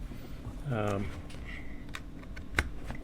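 Keys clack on an RK Royal Kludge R75 wired 75% mechanical gaming keyboard in a few sparse, crisp taps close to the microphone, while a person speaks briefly over them.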